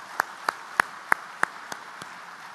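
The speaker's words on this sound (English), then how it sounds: "give a big round of applause" A single pair of hands clapping at a speaker's event, giving six or seven sharp, evenly spaced claps that fade toward the end.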